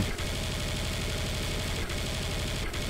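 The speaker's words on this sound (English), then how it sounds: "Let's use a minigun." Minigun fire in the shooter game Serious Sam 3 is a continuous dense rapid rattle of shots, loud and sustained for the whole stretch with brief dips.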